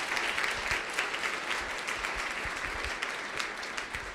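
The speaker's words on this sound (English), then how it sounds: "Could we give Secretary Castro a round of applause?" Audience at a housing event applauds the U.S. Housing Secretary, a steady sustained round of clapping from many hands.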